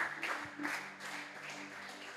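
Church congregation applauding, a sustained crowd clapping with some rhythmic swells, moderately loud and continuous throughout.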